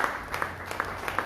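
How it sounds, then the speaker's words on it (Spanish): A church congregation applauds during a service, a dense patter of many hands at moderate distance with a few sharper claps rising out of the steady wash. "Denle un aplauso a Cristo, hermano."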